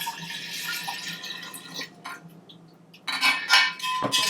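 Liquid for simple syrup being poured into a measuring cup at a bar counter, with light clinks and trickling that swell louder in the last second or so, no speech.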